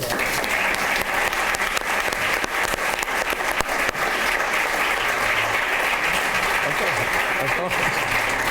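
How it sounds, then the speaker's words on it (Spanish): Strong, sustained applause from the audience at a parents' education forum, a thick, even wash of many hands clapping for over eight seconds with little variation. "Os pido un aplauso muy fuerte"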